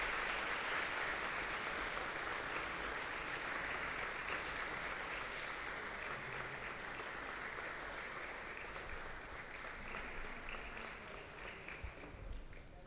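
An audience at the National Youth Parliament Festival 2023 claps continuously to welcome the Lok Sabha Speaker, a faint but sustained, even applause lasting over ten seconds that gradually eases toward the end.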